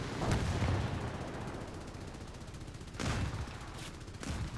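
Aircraft machine gun fire in War Thunder, two rapid rattling bursts, one at the start and a louder one around the three-second mark, separated by quieter engine drone and followed by a short burst.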